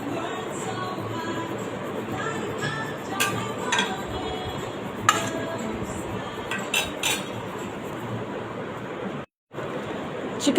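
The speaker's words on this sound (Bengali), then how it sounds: "ঘিয়ের মধ্যে আমি ভেজে নিব মুরগির টুকরোগুলো" Chicken pieces fry in ghee in a pan for chicken kabsa, giving a steady, close hiss of sizzling with scattered clinks of utensils against the cookware.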